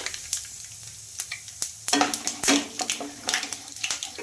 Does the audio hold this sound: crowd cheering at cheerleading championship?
no